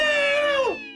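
A single drawn-out cat meow used as a comedy sound effect, loud and close, ending in a falling pitch, with no talk.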